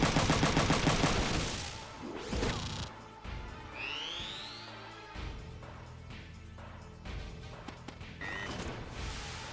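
Gunfire in the tactical game Front Mission 3 crackles in a dense opening volley followed by sharp impacts, mechanical whirs and a rising whine, all mixed with game effects at moderate loudness.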